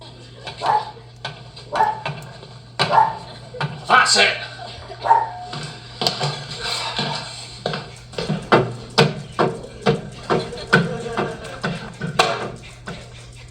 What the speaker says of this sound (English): Hear my dogs? They're still going strong.